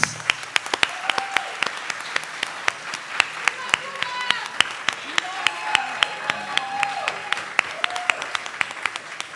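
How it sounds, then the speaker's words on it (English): A panel audience gives a speaker a warm round of applause, many crisp hand claps from close by and farther back, with voices chattering under the clapping. "let's give a huge round of applause for Rafael Gonzalez Morales"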